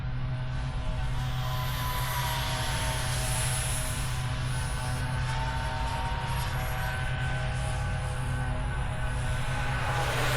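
A radio-controlled model NGAD jet plane buzzes continuously with a high whining motor, steady and fairly close on a bright sunny day, its pitch shifting slightly as it flies.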